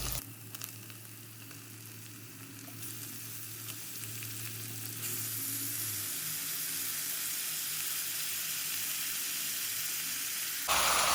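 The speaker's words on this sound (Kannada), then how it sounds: "ಈರುಳ್ಳಿ ಸ್ವಲ್ಪ ಫ್ರೈ ಆಗಿದೆ ಈಗ ಚಿಕನ್ ಹಾಕ್ತಾ ಇದ್ದೀನಿ" Chicken pieces go into a pan of medium onions already frying for a chicken gravy, giving a loud, steady close-up sizzle that grows brighter and fuller about halfway through, with no voices.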